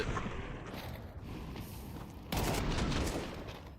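Gunfire from a Counter-Strike 2 match at a BLAST Open London tournament, with a steady bed of game noise and a sudden louder burst of shots partway through, dense and clattering.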